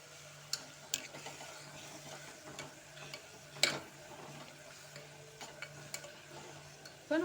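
Curd gets stirred into sautéed tomato and onion in a pan, a quiet scraping and clinking of a spoon tapping the pan at irregular intervals over a faint steady background hum.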